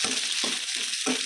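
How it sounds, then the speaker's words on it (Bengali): Onion, garlic and chili frying in hot oil for a biryani, a steady bright sizzle with three or four bursts of stirring scrapes in the pan, close and alone without talk. "তো তেল হয়ে গেছে, এবারে পেঁয়াজ রসুন লঙ্কা ভেজে দেবো"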